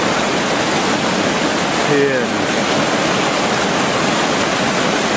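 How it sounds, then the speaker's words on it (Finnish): Rapids rush through a rocky river channel swollen to its banks after heavy summer rain, a steady loud broadband roar filling the whole clip, with a brief spoken word near the middle. "Nyt tämä on laitoja myöten täynnä kuohuja."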